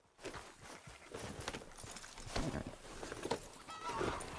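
Steady rhythmic clip-clop of horse hooves at a walking pace in Red Dead Redemption 2, fairly near, with no talking.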